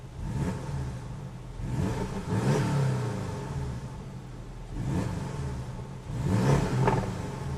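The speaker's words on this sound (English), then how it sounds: "let's take a listen to the exhaust real quick" A 2017 Porsche 718 Boxster S turbocharged engine with sport exhaust revs repeatedly in several rising bursts, a deep throaty exhaust roar close by, settling to a rumbling idle between pushes.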